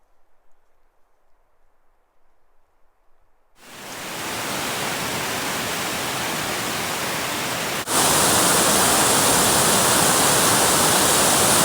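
Scarf Falls, a waterfall in the Yellowstone backcountry, roars as a loud continuous rush of water. It starts after a few seconds of near quiet and then grows louder partway through.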